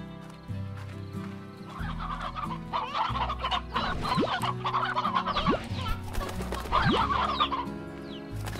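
Chickens in the video game Slime Rancher, a rooster and hens clucking repeatedly in short overlapping bursts over a steady game music backdrop, close and fairly loud.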